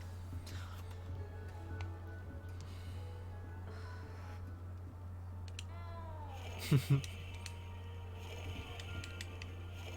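A cat meows in the Hogwarts Legacy castle, a short pair of sharp mewing calls rising briefly over a constant low hum and quiet game ambience.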